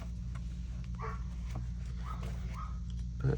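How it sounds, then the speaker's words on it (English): A neighbor's dog barks and yips a few times at a distance, faint against a steady low indoor hum, with no talk during the barking. "neighbor's dog"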